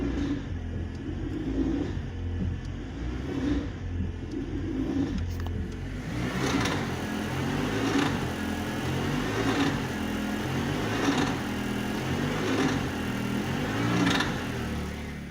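A car at a standstill with the brake held while the throttle is gently applied to expose a worn CV joint, giving a low steady engine rumble with faint periodic knocks or clunks recurring about every second.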